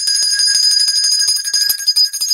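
A bell ringing with sustained, bright, steady tones that stay loud and unbroken throughout, with faint low thumps underneath.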